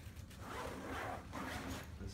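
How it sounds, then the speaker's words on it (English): Zipper being drawn open down the back laptop compartment of a The North Face Surge daypack, a continuous rasping pull that runs close and steady for about two seconds. "this whole thing zips down."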